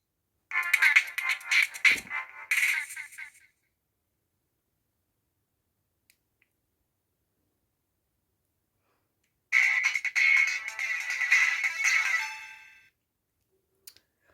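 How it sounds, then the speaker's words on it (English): Electronic shutdown tones play from a mobile phone in a collection of old handsets: a short chiming burst, then silence, then a longer tone sequence that fades out, with no talking. "Okay, I selected the other startup sounds, so let's shut it down."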